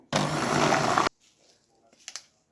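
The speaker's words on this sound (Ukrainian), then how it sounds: "Все промішую легенько блендером" A blender whirs loudly in a single burst of about one second mixing pie batter with kefir and jam, then stops, followed by faint clinks.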